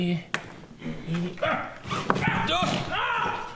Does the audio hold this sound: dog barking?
yes